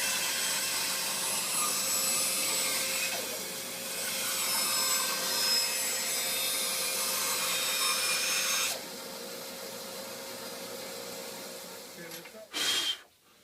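A table saw rips a strip of wood into small scale-model 2x12 framing lumber, making a sustained loud hiss and whine with a steady tone that changes character partway, then drops to a quieter hum before a brief final burst.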